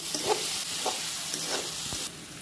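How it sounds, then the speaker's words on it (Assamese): Salt, cumin powder and chili powder sizzle in hot oil in a pan while a spoon stirs them, giving a steady close frying hiss with a few soft scraping strokes. "অলপ ভালদৰে লৰাই লৈছো"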